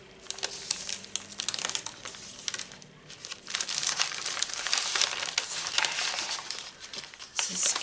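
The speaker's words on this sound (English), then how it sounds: "Some more of that rice paper." Rice paper for a vintage rose and butterfly journal handled close up, giving crisp, irregular crinkling and rustling that swells and fades in bursts, with a voice briefly heard.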